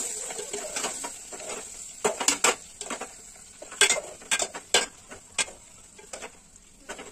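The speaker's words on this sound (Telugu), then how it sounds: "ఇప్పుడు ఆ చెన వేసి ఇలా కలుపుకోవాలి." Fish roe with turmeric is stirred in a pan, sounding as irregular scraping and tapping strokes of a utensil against metal over a faint background sizzle, close by.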